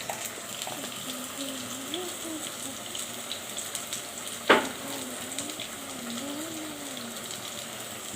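Bay leaf, chopped onion and five-spice frying in hot oil give a steady, fairly faint sizzle throughout, broken once by a single sharp click midway, with a faint tonal background hum.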